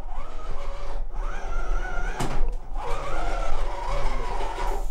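A gaming steering wheel's electric motor whines and whirs in rising and falling sweeps, close and insistent, broken by a brief clunk midway.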